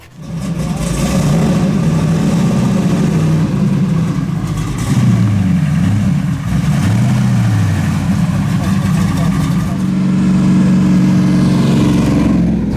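Chevy C10 pro touring truck driving and accelerating, its engine holding a steady mid-pitched drone with rising revs heard from inside the cab, continuous and fairly loud throughout.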